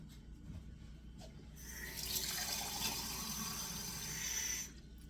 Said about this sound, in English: I'm going to put about 1 inch of water in this.